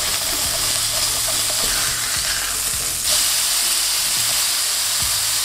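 Beef sears hard in a hot pan for loaded fries, a loud continuous sizzle and hiss with scraping strokes of a utensil, a brief surge of spitting near the middle, and no talking.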